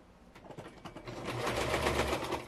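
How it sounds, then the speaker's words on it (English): A sewing machine stitches the inseam of pinned fabric shorts, its motor whir rising to a steady, fast-ticking run after a few slower stitches at the start. "And then you sew it."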